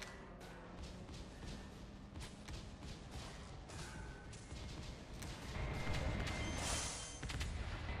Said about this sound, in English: There were a lot of explosions there.